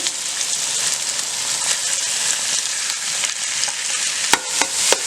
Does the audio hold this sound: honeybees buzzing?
no